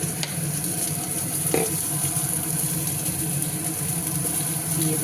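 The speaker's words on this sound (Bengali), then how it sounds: "মাছটা এদিকে আস্তে আস্তে ভাজা হচ্ছে।" Fish fries slowly in oil with a steady, close sizzle and hiss that holds even throughout, a faint clink of a utensil now and then, no talk.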